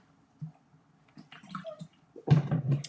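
Water is poured: a few soft splashes and trickles, then a louder, fuller gush of liquid near the end, close and alone without talk.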